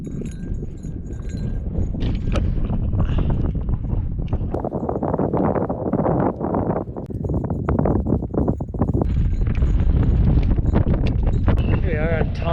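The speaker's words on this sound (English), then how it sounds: "Still lots of wind." Strong wind gusting across an open mountain summit, continuous loud roaring buffeting up close, with people talking through it.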